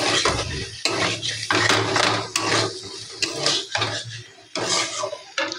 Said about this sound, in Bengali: এবার আমি আলুটা দিয়ে দেবো, দিয়ে একটু নাড়াচাড়া করে নেবো